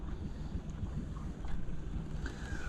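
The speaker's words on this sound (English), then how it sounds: "I've got the big motor going" The big outboard motor on a fishing boat runs steadily, a dense low rumble mixed with wind and water noise, close and continuous, with no voices over it.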